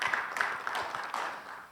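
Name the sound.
audience applause welcoming the speaker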